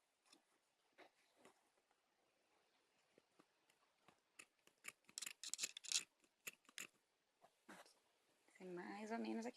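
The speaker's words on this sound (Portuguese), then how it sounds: "A minha tesoura não tá ajudando." Scissors snip fabric in quick, uneven bursts while a skirt with pointed hems is cut, the blade clicks sharper toward the end, with someone talking at times and a brief louder rustle closing the passage.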